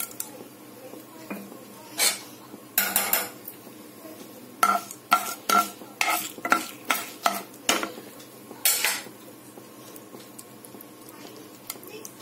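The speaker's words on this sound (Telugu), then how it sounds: "తిరగమాత వేగుతున్నదండి." Tempering seeds for palakura pappu crackle and pop in a hot pan, with a run of sharp, close spits and bursts over a quiet background; no talk.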